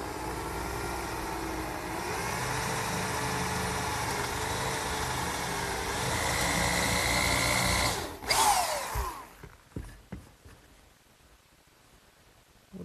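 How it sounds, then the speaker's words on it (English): A power drill with a brad point bit whines steadily for several seconds boring a hole for an oak dowel, then winds down, followed by a few knocks and scraping handling noises. "now it's time to drill a hole for the oak dowel"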